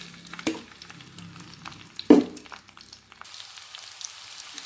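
Jackfruit stir-fried in a pan with dried red chillies and curry leaves: a soft sizzle under clanking spoon strokes, two sharp knocks against the pan, then a quieter steady frying hiss.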